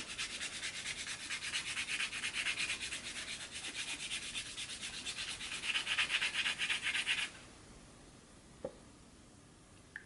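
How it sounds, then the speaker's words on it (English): A coin or nail scratches rapidly at a scratch-off panel on a card, a close, fast, rasping rub that runs steadily for several seconds and then stops, followed by a couple of faint taps. "I'm going to scratch this off really quick"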